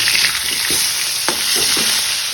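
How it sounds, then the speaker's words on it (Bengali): Two pieces of rohu or catla fish sizzle loudly and steadily in hot oil in a home kitchen, with a few soft scraping strokes of a spatula. "এখানে মাছ ভাজা চলছে"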